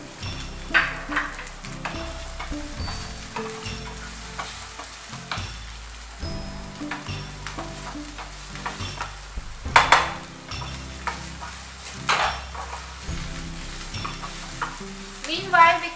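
Tomato puree cooking with bell peppers in a pan for shakshuka, a soft continuous sizzle broken by the scrape and clink of a spoon stirring against the pan, close and moderately quiet, with no talking.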